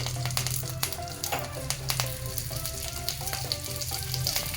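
Dry red chilies, curry leaves and peanuts fry in oil on low heat, giving a steady soft sizzle with scattered small pops and crackles throughout.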